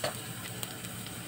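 Garlic fries in cooking oil with a faint, steady sizzle and a few soft crackles and ticks, heard alone at low volume.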